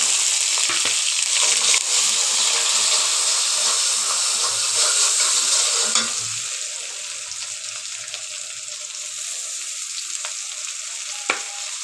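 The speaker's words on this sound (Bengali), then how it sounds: "দেখতে পাচ্ছ আমি এখানে পেঁয়াজ, রসুন, কাঁচামরিচ, জিরা, কালো জিরাকে বেজে নিচ্ছি।" Onion, garlic, green chili, cumin and black cumin frying in hot oil, a loud, dense crackling sizzle that eases partway through, with occasional stirring clinks close by.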